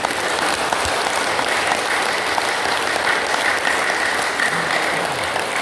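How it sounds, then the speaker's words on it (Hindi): Yoga class participants clapping together, a steady dense patter of hand claps filling the room at close range with no voices over it. "ऐसे यहां से ऐसे एक बार जोरदार ताली।"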